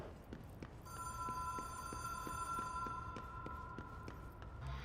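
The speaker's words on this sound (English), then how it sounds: "I can hear the phone ringing" A telephone rings in the video game Control, a steady electronic bell tone heard at moderate distance over soft repeated footsteps.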